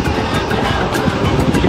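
Inside an airplane on a flight to Kilimanjaro, a steady, loud broadband rush of engine and airflow noise fills the cabin throughout.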